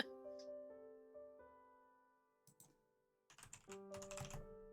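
Typing on a computer keyboard over a sustained background tone, a short flurry of clicks followed by denser rapid key taps near the end, fairly faint.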